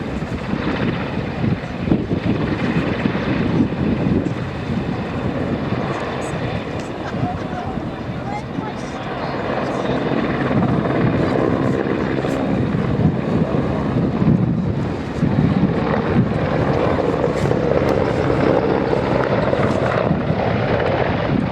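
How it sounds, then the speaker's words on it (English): Royal Navy Merlin helicopter climbing and turning at an airshow, a loud sustained rotor and turbine roar with gusty wind noise on the microphone and a commentator talking over it. "the Merlin will transition into a 40-degree nose over, before proceeding into a 360-degree flat turn"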